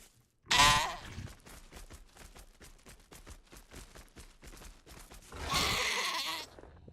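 Bleating from a goat in a video game, two loud bursts at the start and end with a rapid stuttering series of clicks and pops between them.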